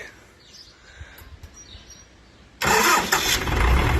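A tractor engine is started on a farm: quiet background with birds, then at about 2.6 seconds the engine catches and runs loud and steady, close by, with a broad roar and low rumble to the end.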